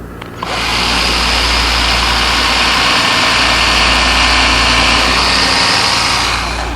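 A power drill pre-drills a nail hole in hardwood such as oak for a hanging cupboard, its motor whining steadily for several seconds after a quick start, close and loud with no talking.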